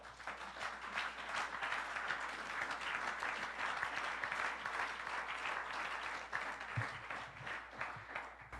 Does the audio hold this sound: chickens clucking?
no